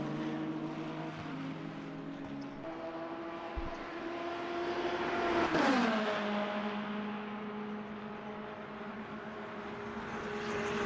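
A BMW GT3 race car engine sings in Le Mans Ultimate at Le Mans, a steady droning note that swells as the car passes close and then drops in pitch as it moves away, with a second engine in the mix.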